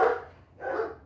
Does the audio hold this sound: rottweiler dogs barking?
yes